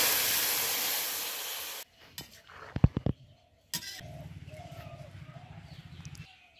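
Dal is poured into hot oil with onion, green chilli, cumin and dried chilli. A loud burst of hissing sizzle is followed by clatters and bumps, then a softer ongoing bubbling.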